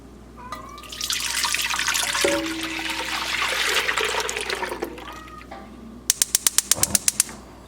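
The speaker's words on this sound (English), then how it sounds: "we wanna shake up our milk really well" Raw milk sloshes and churns inside a container as it is shaken vigorously for several seconds, followed by a quick series of sharp rhythmic taps or clicks near the end.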